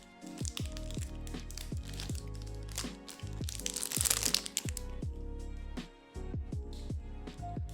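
Crunching bites into a chocolate peanut butter protein bar, loud close-up crackling and crunching chews repeating steadily, with no voices.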